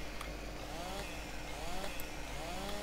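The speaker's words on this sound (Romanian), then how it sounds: "atunci când ai drujba în mână și apăși pe X, pur și simplu se activează și stai" A chainsaw held and run in the farming game Farming Simulator 17 gives a steady, loud buzzing whine with slight rises in pitch, continuous throughout.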